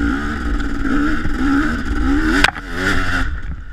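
Dirt bike engine at a Broome Tioga winter scramble race, revving hard close by, its pitch rising and falling under throttle, with a brief sharp drop partway through before it pulls again.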